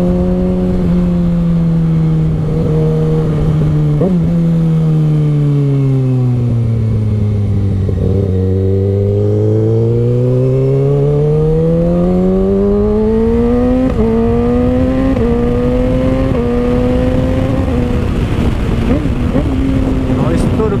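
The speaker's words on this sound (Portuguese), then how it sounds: "Olha o estouro que dá no troca de marcha." A Kawasaki ZX6R with a straight-pipe exhaust blares loudly and up close. The engine note dips and rises as it slows and accelerates, and sharp exhaust pops crack out at the gear shifts.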